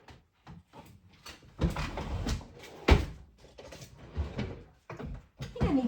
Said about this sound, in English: I need to move the drawer behind me to one further away.